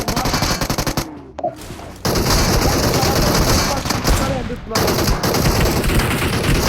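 Gunfire in the mobile battle royale game PUBG Mobile: dense, loud bursts of shots fill the clip, broken by a brief lull, with faint voices mixed in.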